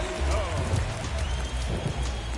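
Rain falling on a baseball stadium in the MLB The Show 23 video game, a steady dense hiss of rainfall with low rumbling ambience throughout.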